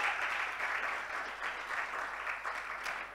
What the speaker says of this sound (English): can we give him a round of applause as he can help?